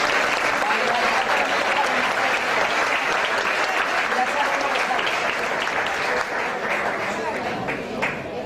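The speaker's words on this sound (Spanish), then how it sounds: "Un aplauso para él." An indoor audience applauds the consul at a Paraguay bicentenary event, steady dense clapping that holds at the same loudness for the whole stretch and eases slightly at the end.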